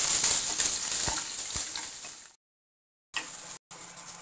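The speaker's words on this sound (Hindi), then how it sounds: "ये प्याज हमारी तल गई है" Thinly sliced onions and garlic cloves fry in hot oil for restaurant-style chole, giving a bright, steady sizzle with a couple of stirring knocks, then a sudden cut to silence and brief sizzling bursts.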